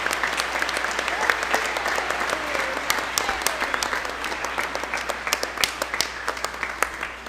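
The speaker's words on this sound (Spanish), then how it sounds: "Dense un fuerte aplauso," Congregation clapping during a Spanish-language Catholic Mass, distinct individual claps forming a moderate, steady applause in a reverberant church, heard at a slight distance with a low hum beneath.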